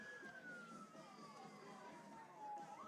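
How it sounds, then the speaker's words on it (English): Ambulance siren passing at a distance outside a high school powderpuff football field, a single descending tone sliding lower as it goes by, fairly faint over steady background noise. "believe that was an ambulance."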